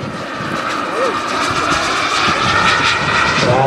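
A radio-controlled MD-80 airliner scale model jet sweeps past over an airfield at a Czech jet-model event, its engines giving a loud, steady turbine roar that swells slightly as it passes.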